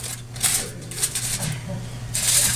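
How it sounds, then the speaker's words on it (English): Aluminum foil being put back over a dish of garlic parmesan red skin potatoes, giving close crinkling rustles in several short bursts, with a steady low hum underneath. "So we're going to put the foil back on."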